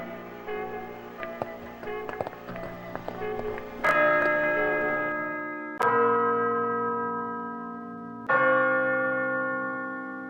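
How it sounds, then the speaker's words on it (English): Church bells ring in an animated science-fiction episode, first a cluster of lighter chimes, then three heavy strikes, each followed by a long resonant decay. "Bells. Church bells?"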